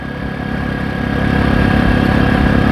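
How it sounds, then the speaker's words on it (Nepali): Loud motorcycle engine on a jungle trail in Nepal, running a steady mid-pitched drone that grows slightly louder and holds close and continuous, with no voices. "ठिक आवाज जोडले आयो यार बाइक इन्जिनबाट।"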